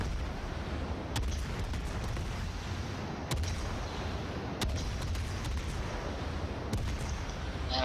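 Naval gun salvos in World of Warships from the cruiser Minotaur, a few sharp booms spaced several seconds apart over a steady roar of ship and sea ambience.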